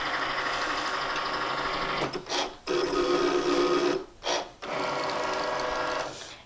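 A Cricut cutting machine cuts heat transfer iron-on vinyl with a close, steady mechanical whirring. The sound is broken by two short pauses where the carriage stops and restarts.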